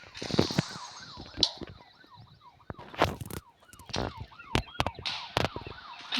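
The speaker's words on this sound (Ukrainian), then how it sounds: "там поліцейська машина застрягла" Wailing police siren from a car stuck in a video game, rising and falling in repeated sweeps under bursts of crashes, bangs and game noise throughout.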